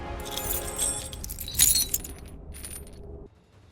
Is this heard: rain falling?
no